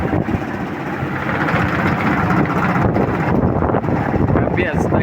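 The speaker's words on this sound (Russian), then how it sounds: "У нас ураган и штормовой ветер. Это просто трэш. И морозец. Гляньте, как калитка дребезжит." Stormy hurricane-force wind in freezing weather roars steadily and loudly against the microphone outdoors, with a garden gate rattling somewhere beneath the gusts.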